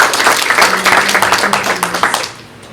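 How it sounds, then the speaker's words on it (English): A round of applause for presenters at a student government senate meeting: brisk, close clapping from a group that holds steady for about two seconds before tapering off. "please again give a round of applause for our presenters"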